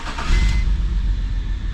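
A 2004 BMW 325xi with a misfire starts up close by, a loud cranking burst in the first half-second settling into a steady, slightly uneven low rumble.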